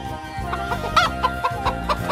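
A cartoon hen clucks in a run of short, clear calls over a background music bed, fairly loud and close, with no talk.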